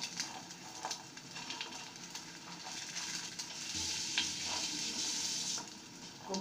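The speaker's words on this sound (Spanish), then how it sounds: "este huevo voy a freír normal" An egg fries in a pan with only a thin coat of oil, giving a soft, steady sizzle and crackle throughout, fairly quiet and with no voices.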